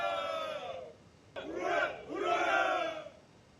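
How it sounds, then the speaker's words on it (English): Men in military uniform cheer and shout together while boarding buses somewhere in Belarus near the Ukrainian border. Two loud bursts of crowd cheering are heard, with a brief dip between them. "men in uniform cheering as the boarded buses at an undisclosed location in Belarus"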